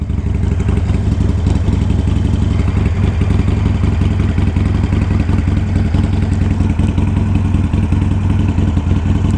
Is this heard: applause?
no